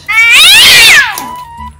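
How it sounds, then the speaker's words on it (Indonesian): A cat meows once, loud and close, in a long rising-then-falling cry lasting about a second, in a home kitchen where fish is being cleaned. "Kau tengok lah kucing aku ni."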